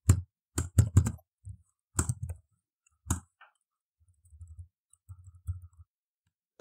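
Crisp keystrokes on a computer keyboard come in short, close clusters of clicks, followed by softer, lighter tapping, with quiet gaps between and no talking.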